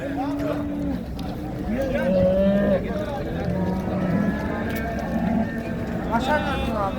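Cattle low at a busy livestock market in Şarkışla, Sivas. Drawn-out moos rise over a steady crowd murmur, and people talk nearby throughout.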